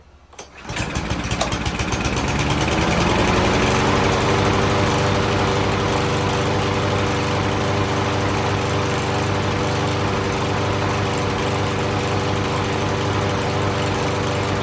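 A Cub Cadet mower engine with a freshly cleaned carburetor fires up and settles into a steady, loud idle that runs continuously, slightly rough, with no talking.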